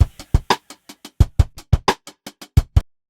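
A drum break played with a mild 8th note swing in Ableton's Beats warp mode: punchy kick and snare hits alternate with lighter ticks in a loping, uneven rhythm, loud and dry, then stopping abruptly.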